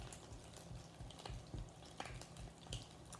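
Food fries in a skillet for gluten-free cornbread and Parmesan rice cakes, a steady close sizzle broken by sharp pops and crackles spaced irregularly.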